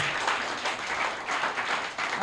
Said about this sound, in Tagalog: Lahat po ay pumalakpak!